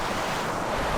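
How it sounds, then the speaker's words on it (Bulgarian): Strong water rushes and overflows the Bryagovo dam in the Rhodopes, a loud, dense, continuous roar with no pauses. "Виж колко е силна водата."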